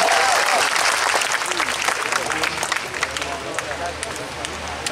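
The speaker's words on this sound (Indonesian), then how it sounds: "Tepuk tangan untuk Mas Jiwo Tejo untuk masuk ke depan." Audience applause with cheering at a crowded stage event marking a religious scholar's 74th birthday celebration, loud dense clapping throughout that gradually eases, with some voices mixed in.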